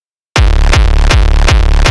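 A hardcore kick drum built in Serum and run through a multiband compressor with the threshold fully down thumps loud and alone, four heavy distorted hits at a steady rhythm, each with a booming low tail.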